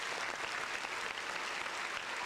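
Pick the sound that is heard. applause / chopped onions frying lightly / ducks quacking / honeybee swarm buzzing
applause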